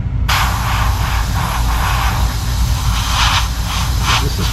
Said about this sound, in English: spray these here.